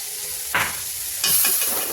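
Ginger-garlic paste hits a hot pan with a sharp sizzle, followed by stirring and a second burst of frying hiss, close and crackling.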